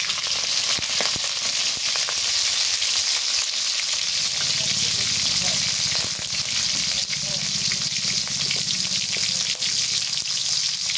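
Vegetables frying in oil for an egg and prawn-pointed gourd curry, a steady loud sizzle running the whole time with occasional stirring scrapes and clinks.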